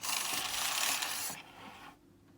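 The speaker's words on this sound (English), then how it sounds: "take the carriage across to the opposite side, making sure the yarn doesn't get caught on the fabric guide there" The carriage of a Bond knitting machine slides across the needle bed with a steady, close rushing scrape for over a second, then fades to a quiet mechanical hum with faint clicks.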